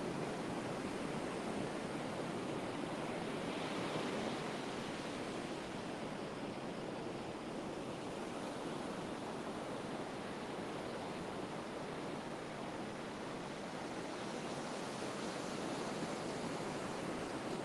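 Steady ocean surf washes continuously onto a fishing beach, a broad, even roar of breaking waves with no talk, holding constant for the whole stretch.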